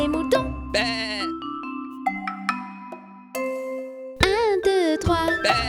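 Sheep bleating in a French children's counting song, several loud wavering bleats in quick succession over bright musical tones and chimes.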